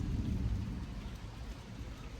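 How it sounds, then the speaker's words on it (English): Heavy rain pouring during a thunderstorm, heard from under a bridge: dense, steady low rumbling hiss of downpour filling the clip, close and loud, with no voices. "It's already raining pretty heavily, so I'm hiding under a bridge."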